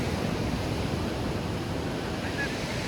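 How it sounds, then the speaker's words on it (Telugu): Surf rolling onto Visakhapatnam beach, a steady broadband wash of waves mixed with wind buffeting the microphone, fairly faint and continuous, with no talking. "But Visakhapatnam beach is so clean man."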